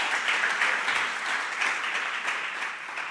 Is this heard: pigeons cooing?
no